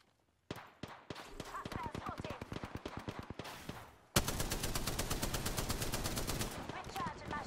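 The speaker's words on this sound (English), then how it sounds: "They spotted me. I'm taking shots." Rapid gunfire aimed at the player in the Apex Legends battle royale game, a burst of sharp repeated shots that gives way to a louder, denser stream of automatic fire, close and continuous.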